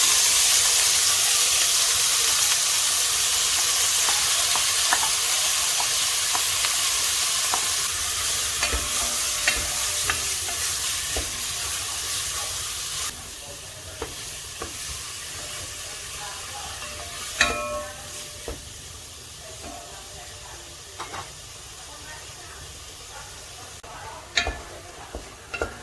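Cinnamon, bay leaf and clove sizzle in hot olive oil as a spoon stirs them, a strong steady hiss that eases over time, with scattered scraping clicks against the pan and no talking.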